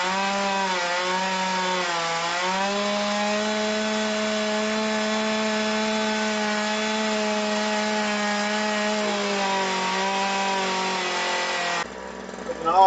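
A Ryobi RY3818 chainsaw runs wide open at a steady high-pitched scream for about twelve seconds, the pitch dipping and wavering briefly near the start before it cuts off abruptly at the end.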